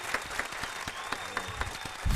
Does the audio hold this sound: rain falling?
no